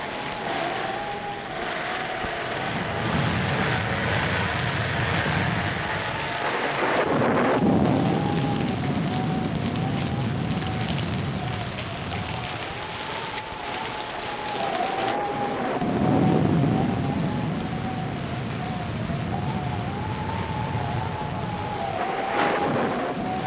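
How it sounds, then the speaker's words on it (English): Thunderstorm in an old black-and-white film soundtrack: continuous roaring wind and rain with swelling rumbles of thunder and a faint wavering tone over it, no talk. "we'd better get out of here before this storm gets any worse"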